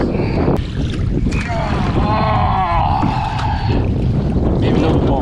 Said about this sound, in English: Sorry for all the wind.